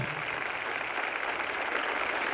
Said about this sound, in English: will you applaud to say hello to the online crowd?